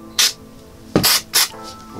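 Three short, sharp hisses of an alcohol cleaning spray bottle used while soldering, spaced irregularly, close by with quiet pauses between them.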